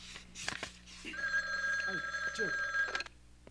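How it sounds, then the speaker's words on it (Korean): An old-style bell telephone rings with a steady electric trill in a police detective office in a 1985 Korean TV drama, starting after a brief voice and continuing for about two seconds at moderate loudness. "한 형사 전화합니다"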